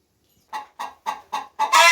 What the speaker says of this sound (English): the little chickaronas have an area to sleep at night